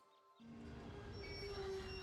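A tram in the video game Merchants of Rosewall starts up after a brief quiet, giving a rising rail rumble with a thin metallic squeal over it, steady and moderately loud.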